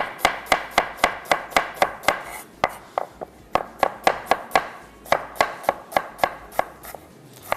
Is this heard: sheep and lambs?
no